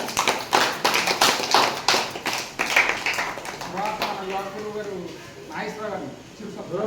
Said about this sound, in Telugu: అదే ఆయనకి చప్పట్ల రూపంలో ధన్యవాదాలు తెలియజేయండి.